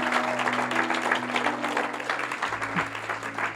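Church congregation applauding and cheering for a steady stretch, a dense wash of clapping with a sustained low hum running beneath.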